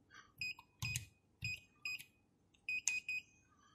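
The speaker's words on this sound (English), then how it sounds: "If it doesn't work and it's been deleted, it won't go green and it'll be a beep." A standalone access control keypad lets out short electronic beeps after a rejected PIN: several bright, clipped tones in uneven bursts, moderately loud and close, with faint background noise and no talking.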